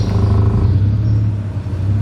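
A straight-piped BMW M car engine on the road, driven in manual with a learner on the gas, holds a loud, steady low rumble close by that builds slightly and settles with no voices.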